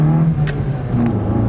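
A car fitted with a cold air intake accelerates on the highway, its engine note rising in a loud, close whirring rev heard from inside the cabin, alone without talk.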